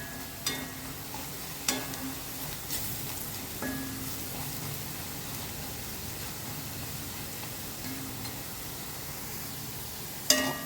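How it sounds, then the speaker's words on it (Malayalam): Onion, garlic, ginger and curry leaves fry steadily in a pan, a soft continuous sizzle with a few brief stirring clatters and no talking. "നമ്മുടെ സവാളയും വെളുത്തുള്ളി, ഇഞ്ചി, വേപ്പില എല്ലാം നല്ലോണം ഫ്രൈ ആയിട്ട് വന്നിട്ടുണ്ട്."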